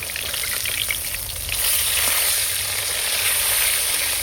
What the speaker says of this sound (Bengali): খুব লাল করে ভাজা হয়ে গেছে মাছ আমি উল্টে দিলাম